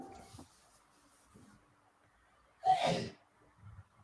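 A person sneezes once, a sharp loud burst standing out near the end of a quiet stretch, with faint breathing and soft background noise around it during a tabletop game session.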